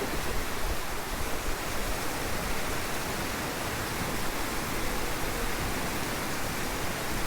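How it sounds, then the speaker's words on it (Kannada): Tiger Waterfalls roars in a dense, unbroken wash of falling water, loud and close, with no pauses or voices throughout. "ಎಲ್ಲ ನೋಡಿ ನೀರು ಹರಿಯುತ್ತೆ"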